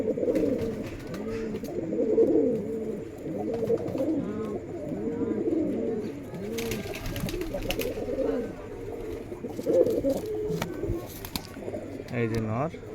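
Pigeons coo repeatedly at a Rajshahi pigeon market where local Giribaz tumbler pigeons are sold, a rhythmic chorus of throaty rolling calls near at hand with someone talking over them at times.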